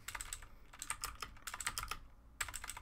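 Quick bursts of keystrokes clatter on a computer keyboard, close and fairly quiet, with short pauses between flurries of typing and no voices.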